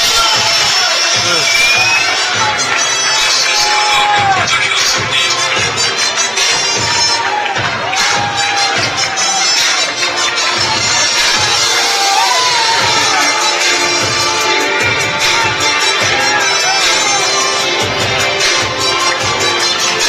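A crowd at the West End Hotel erupts after a knockout at a fight night, a loud, continuous din of cheering, shouting and whoops that never lets up.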